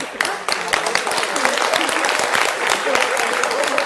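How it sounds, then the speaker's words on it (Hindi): Loud applause from a studio audience at a Madhya Pradesh election opinion poll debate, dense rapid clapping that swells and holds steadily for several seconds. "जोरदार तालियां"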